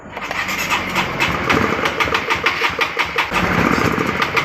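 A Honda CB150R motorcycle with a rough-running engine cranks and catches, then idles and revs unevenly with a ragged, sputtering note, loud and close with no talk.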